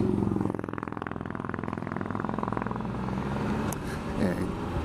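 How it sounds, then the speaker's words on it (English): Motorcycle engine passing at close range with a steady rumbling drone that swells and then eases away, recorded on an Insta360 X3 camera, with no speech. "motorcycle."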